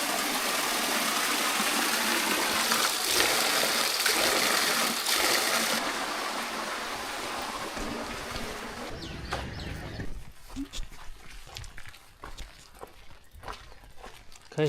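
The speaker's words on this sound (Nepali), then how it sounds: "यो चाहिँ प्राचीन कालका ढुङ्गे धाराका बनावटहरू हुन्" Water gushing from ancient stone water spouts in Okhaldhunga, Nepal: a loud, steady rush fills the first half and then drops away, leaving quieter outdoor sounds with scattered footsteps and knocks.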